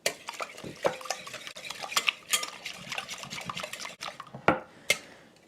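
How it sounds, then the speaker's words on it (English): Eggs being whisked in a bowl for keto cheddar cheese biscuits, a close, busy run of rapid clicks and scrapes of a utensil against the bowl, with no voices. "Now that the eggs are whisked up"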